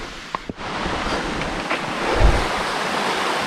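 A mountain stream on the Alum Cave Trail in the Great Smoky Mountains rushes steadily nearby as a constant broad wash, with a couple of brief knocks near the start.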